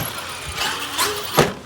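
A Vigilante RC truck drives and launches over a small jump, its whining motor and tire noise rising in short bursts, peaking sharply near the end on landing.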